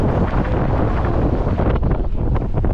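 Strong wind roars across the microphone while fishing under a bridge, a dense, steady buffeting rush that lasts the whole stretch with no other sound standing out.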